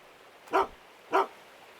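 Two short barks, evenly spaced about half a second apart, from a video game dog in Gold Mining Simulator, clear and alone against a quiet background.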